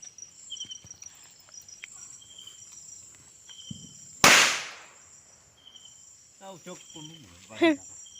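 A single sharp firecracker bang rings out during Diwali amid chirping crickets, followed by a fading echo, with faint rustling and distant chirps around it.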